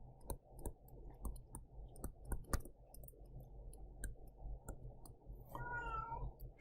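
A house cat meows faintly in the background several times, with soft clicks and low room hum throughout and a rising call near the end.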